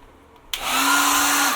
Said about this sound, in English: Here's the hair dryer. Let's see if it works.